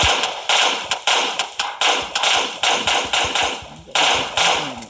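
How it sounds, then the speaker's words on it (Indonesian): Rapid gunshots striking an iron sign in the mobile game PUBG Mobile, a string of loud, sharp cracks in quick bursts with short gaps, each shot leaving a brief decaying ring, with no talking over it. "Jadi nembak pelang besi kayak gini tuh kayak nggak ada efeknya gitu"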